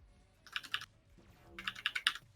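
Rapid clacking of a computer keyboard in two short bursts of quick keystrokes separated by a brief pause, close and fairly quiet, with no talking.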